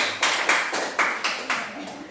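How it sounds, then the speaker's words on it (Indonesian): Classmates in a school classroom clap in a short patterned rhythm, with sharp, evenly spaced bursts of several claps each, close and fairly loud. "Ya, ayo ya beri tepuk tangan"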